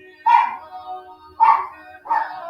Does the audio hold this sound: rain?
no